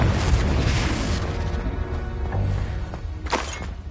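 The Confringo fire spell in Hogwarts Legacy bursts into a loud, close explosion with a heavy booming rumble that fades over several seconds, followed by a sharp crackling burst near the end.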